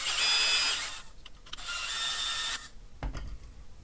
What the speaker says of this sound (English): I prefer to thread them both in a little bit before I tighten them down.